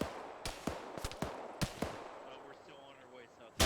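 Gunfire in ArmA 3: a spaced run of sharp shots, quiet gameplay ambience, and then the loud burst of a frag grenade blast at the very end.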